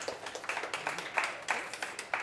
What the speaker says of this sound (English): So we want to give them a little clap for volunteering.